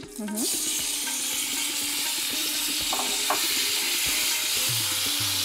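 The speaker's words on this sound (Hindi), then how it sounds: "अभी हम चॉप टमाटर जो हमारे पास थे हम वो डाल देंगे।" Chopped tomatoes hit a hot pan seasoned with turmeric and set off a steady, loud sizzle and hiss of frying. A few soft clinks and stirring scrapes sound over it, with no talking.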